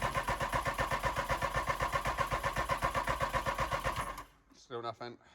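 A VW Golf MK2 GTI barn find with a replaced fuel pump cranks steadily without firing, the starter's rapid rhythmic chugging loud and close for about four seconds before cutting off, followed by someone speaking.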